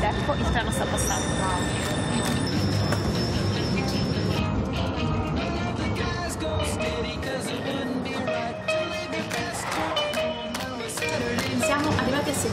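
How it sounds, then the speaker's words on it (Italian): A metro train in Rome rumbles and rattles past close by, with squealing metallic tones and a steady roar filling the platform, while people talk over it. "Siamo arrivati al binario ed ecco, il treno sta passando."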